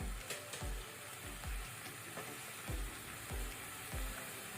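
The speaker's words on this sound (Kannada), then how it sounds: "ಇದನ್ನೆಲ್ಲ ಸೇರಿಸಿ ಒಟ್ಟು ಸೇರಿಸಿ ಇದನ್ನು ಸ್ವಲ್ಪ ಫ್ರೈ ಮಾಡ್ಕೊಳ್ಳುವ" Diced potato and raw mango frying in hot oil over a medium flame, a steady close sizzle broken by repeated soft scrapes and thumps of a spoon stirring the pan, no voices.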